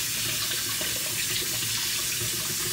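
A sink tap runs steadily as noodles are washed under it, a continuous close hiss and splash of water that holds unbroken throughout, with no one talking.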